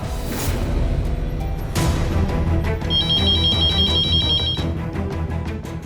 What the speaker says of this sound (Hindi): इतनी सुबह लैंडलाइन में कौन फोन कर रहा है?